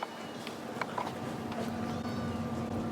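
A small kitten cries faintly from upstairs, a few thin mews spread over a quiet, hissy indoor background.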